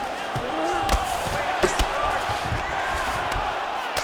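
A crowd roars and murmurs continuously through a UFC 5 video game fight between CPU fighters, with sharp thuds of strikes punctuating the steady arena noise and a commentator talking over it.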